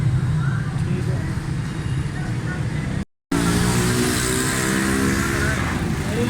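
A Suzuki Cultus EFI engine runs steadily after repair of a knocking, missing and timing fault, a dense, continuous idle that breaks off for a split second midway, with faint voices in the background.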